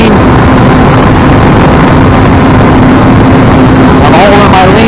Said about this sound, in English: Let's get the bike up to speed.